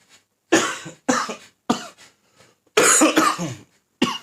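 A series of harsh coughs, about seven bursts in uneven rhythm, close and loud with silent gaps between, some doubled up in quick succession.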